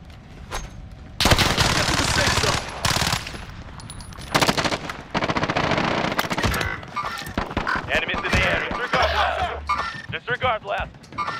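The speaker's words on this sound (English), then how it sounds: "Taking fire here." Machine gun fire in Call of Duty on Rebirth Island, several loud close bursts and rattling volleys with scattered distant shots, mixed with voices talking over the action.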